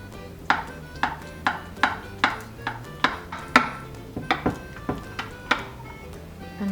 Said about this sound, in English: So now after 15 minutes I'm going to cut a slice.